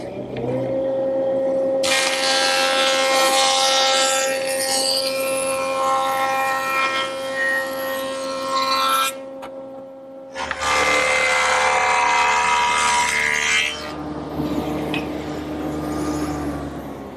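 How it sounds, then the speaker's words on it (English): A jointer smooths the edges of hardwood coffee-table slats in a workshop: a steady motor hum with two long, loud rushing cutting passes, the second following a brief pause. "Now I'll just joint both edges nice and smooth."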